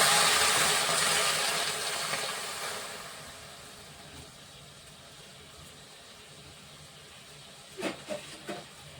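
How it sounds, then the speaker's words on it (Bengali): A splash of water hits a hot pan while amla murabba is made, giving a loud broadband hiss that fades steadily over a few seconds, followed near the end by a few brief clinks and rattles. "অল্প একটু জল দিচ্ছি দিয়ে চিনিটা দেব"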